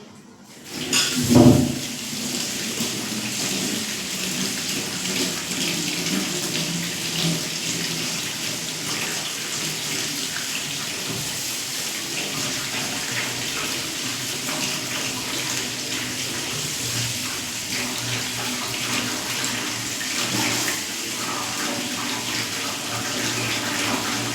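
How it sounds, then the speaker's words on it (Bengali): Potatoes are washed under a running tap, giving a steady, full rush of water that starts with a brief splash and clatter and then flows on evenly. "আলুগুলো আমি ধুয়ে নিচ্ছি"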